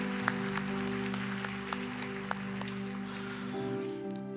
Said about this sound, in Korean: 여러분, 수고해준 서로를 향해서 우리 격려의 박수 한번 보내주시면 너무 감사하겠습니다.